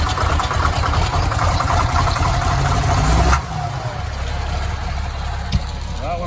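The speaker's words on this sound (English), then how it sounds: "This tractor, I don't know why, it's such an easy starter when it's plugged in." A small farm tractor, plugged in with a block heater, runs at a steady idle on a rainy December day. The engine drones loud and close, then drops to a quieter, lower idle partway through.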